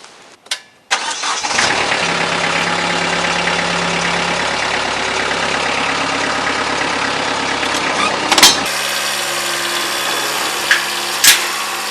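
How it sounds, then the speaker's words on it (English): A Kubota B3030 compact tractor engine cranks, catches and runs at a steady mid-pitched idle while nudging a dead Farmall tractor, close and loud, with a couple of brief clunks and a short rev near the end. "First thing I got to do is nudge it backwards with the Kubota."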